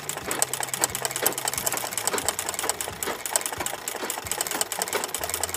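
A sewing machine embroidering a rose design runs in a steady, fast mechanical chatter with rhythmic needle clatter, close and continuous, with no voices.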